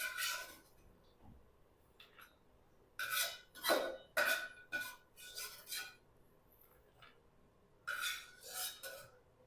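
Roasted ingredients for suji halwa are scraped from a pan onto a plate in irregular bursts of metal scraping and clinking, close and fairly crisp, with quiet gaps between.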